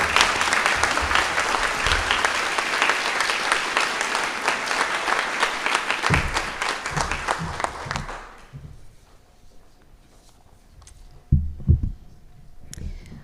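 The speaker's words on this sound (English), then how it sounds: "Let's give them a hand." Audience applause for student award winners at an awards forum, loud, dense clapping from a crowd for about eight seconds that fades out, followed by a quiet room with a few low thumps.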